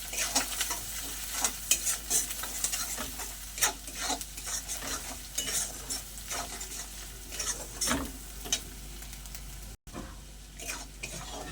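Spices with chilli powder and salt sauté in a pan, sizzling steadily while a spoon stirs and scrapes repeatedly against the metal, with soft rhythmic taps throughout.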